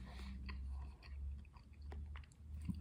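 Someone chews a blueberry and summer corn muffin made with cornmeal, the crunchy corn giving soft, close, irregular munching and crunching sounds over about three seconds.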